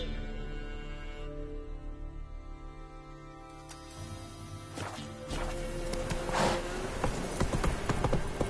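Hooves of Geralt's horse Roach in The Witcher 3 clop along in a steady gallop under background music, growing louder and busier toward the end.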